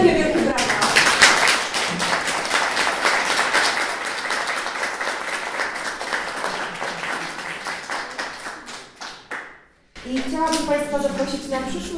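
Applause from a conference audience, loud and fairly dense clapping with distinct claps standing out, dying away near the end before a voice starts speaking.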